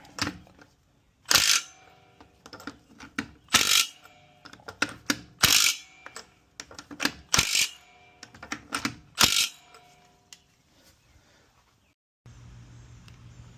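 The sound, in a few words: torquing down strut mount bolts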